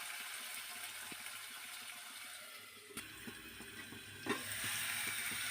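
Onions frying in oil in a curry pan, a soft steady sizzle under a lid with a few light clinks and a short louder rattle near the end, faint and close.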